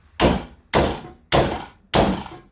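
A 4-pound hammer strikes a welded steel joint four times at a steady pace, each blow a loud, close, heavy thud with a short decay and no talking.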